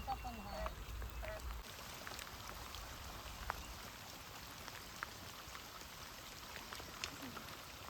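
Steady rain patters down with scattered drips and drops, fairly faint, with brief muffled voices early on.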